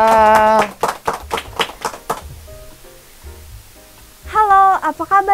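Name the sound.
studio audience clapping to welcome guests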